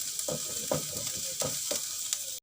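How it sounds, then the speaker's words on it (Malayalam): Ingredients sauté in a hot pan while a spoon stirs them in about four quick scraping strokes over a constant sizzle, close and fairly loud, with no voices. "അതുവരെ നമുക്കൊന്ന് ജസ്റ്റ് ഇങ്ങനെ ഇളക്കി കൊടുത്തോണ്ടേ ഇരിക്കാം."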